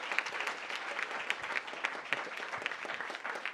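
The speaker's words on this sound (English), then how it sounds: "So round of applause for our final panel" Sustained applause from a conference audience closing a final panel at a labor politics event, dense steady clapping with no talk over it.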